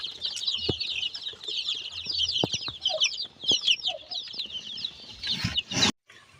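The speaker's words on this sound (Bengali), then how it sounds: "এখানে নয়টা আছে মুরগির বাচ্চা" Nine chicken chicks peep in a rapid, overlapping chatter with occasional soft clucks and a brief burst of fluttering near the end, heard close up.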